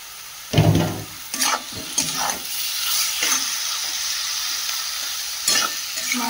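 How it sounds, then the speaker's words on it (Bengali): Chunks of meat drop into a hot pan and are stirred and fried with a spice mixture, a loud burst of sizzling at the start and then steady frying hiss with scraping stirs. "এবার দিয়ে দেবো মাংসগুলো"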